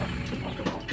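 Roosters and chickens clucking at close range as a backyard coop is opened on a wintry day, a steady busy jumble of overlapping calls with no one talking.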